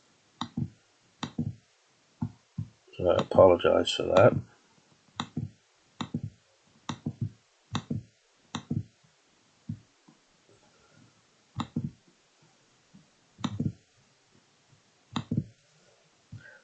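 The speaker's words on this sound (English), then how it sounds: "what you're probably hearing is a lot of clicking." Rapid mouse clicks while a digital collage is assembled on a computer, sharp, close and evenly spaced across the whole stretch, with a brief burst of talking partway through.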